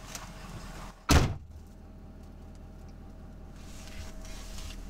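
A door on a travel trailer at an RV service yard is opened with a single sharp clunk, followed by a low steady rumble of the surroundings on a cold day.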